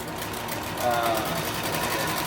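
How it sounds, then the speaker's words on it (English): A sewing machine stitching a tactical plate carrier, a steady rapid mechanical whir that runs unbroken through the whole stretch, close and fairly loud. "Stitch this guy up."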